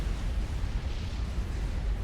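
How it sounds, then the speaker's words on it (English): Explosions roar through a Supreme Commander real-time strategy battle as a dense, continuous low rumble with no single sharp blast standing out. "I heard another explosion."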